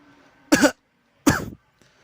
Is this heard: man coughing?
yes